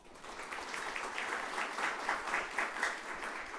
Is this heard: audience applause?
yes